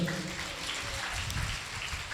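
A church congregation at a Sunday service claps loudly together, a dense, steady wash of applause that fills the whole clip without a break.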